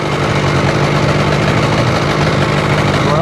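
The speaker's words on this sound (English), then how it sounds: "We're idling in the water with everything hooked up now" Seadoo RFI 787 jet ski engine idling in the water while hooked up, giving a steady, loud, continuous rumble with a constant hum and no talking.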